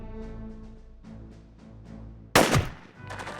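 Type 85 submachine gun from Jagged Alliance 2, a light mass-produced military weapon, firing one sharp loud burst after a stretch of quiet tonal background, with the rattling shots then trailing off.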